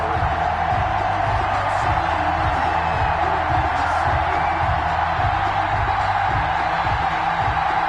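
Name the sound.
stadium crowd cheering in EA Sports NFL video game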